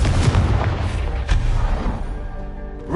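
A Confringo fire spell explodes in the Hogwarts Legacy game, a loud booming blast up close that rolls into a long, fading rumble with no speech.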